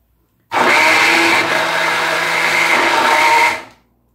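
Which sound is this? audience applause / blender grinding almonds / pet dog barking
blender grinding almonds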